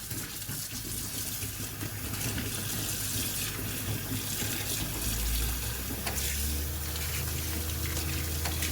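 A tap runs steadily into a sink, filling a bowl of mixed warm and cold water to soak fresh okra, a continuous close hiss and splash that deepens slightly partway through as the water level rises.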